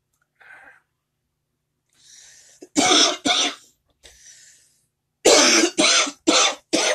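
A woman clears her throat softly, then gives two harsh coughs, a quieter throat clear, and finally a rapid series of four loud, close coughs.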